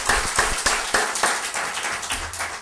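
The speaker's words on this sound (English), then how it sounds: "a big thank you, a big applause to Mr. Vijay Kumar." Sparse applause from a lecture audience at an ICAR talk, a handful of distinct claps spaced unevenly over a couple of seconds, fairly close, with no voices.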